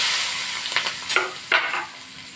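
Green chilies frying in hot oil with mustard seeds, asafoetida and turmeric in a pan on a low flame: a steady sizzle with several short stirring scrapes and bursts of crackle.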